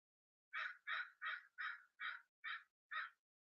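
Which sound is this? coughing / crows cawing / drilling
crows cawing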